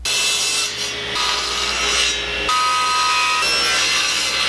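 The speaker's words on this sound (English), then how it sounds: "I need to trim off these little round edges that are on the 2x4 so everything can be nice and square." A rounded edge being trimmed off a wooden 2x4, a loud, close, continuous rasping cut that shifts pitch a few times, with no talk.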